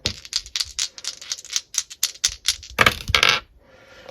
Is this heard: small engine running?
no